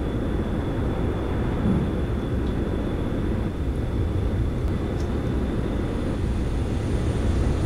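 A Danish F-16 fighter jet flying in the video game Arma 2, a steady, loud, broadband engine roar that holds constant throughout without talk.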